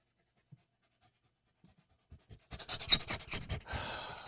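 A dog pants heavily and close by, quick rhythmic breaths building after a few faint soft sounds, then a steady hoarse huffing at the end.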